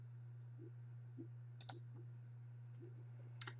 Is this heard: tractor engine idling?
no